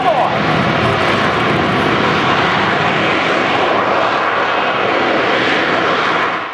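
Aircraft engine at an air show spooling up for a vertical takeoff, a loud continuous roaring rush that holds steady throughout at close range, with voices partly buried beneath it.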